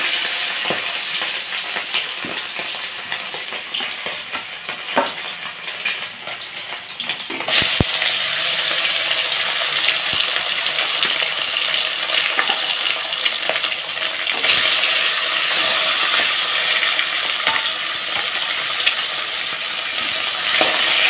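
Fish sizzle and spit in hot oil in a wok, a loud, dense frying hiss that grows fuller when the pieces go in, with occasional clinks and no talking.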